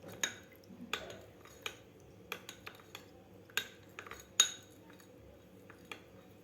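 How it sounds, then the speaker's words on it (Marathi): Metal spoon clinking and scraping against a steel vessel while custard powder is stirred into milk, irregular sharp taps spread through the clip, close and fairly quiet with no talking. "आता व्यवस्थित आपल्याला हे मिक्स करून घ्यायचे आहे दुधामध्ये"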